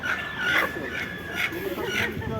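At a live animal market, a loose chicken clucks in several short bursts close by, mixed with the busy crowd noise of the market and people talking.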